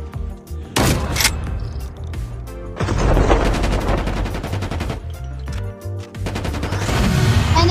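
Shotgun blasts from COD Mobile boom in heavy clusters, several sharp loud shots in quick succession with short pauses between bursts, close and dominant.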